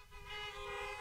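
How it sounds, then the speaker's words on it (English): A single sustained car horn honk at a church drive-in Easter service sounds steadily for about a second, fairly faint and slightly distant. "Give me a honk."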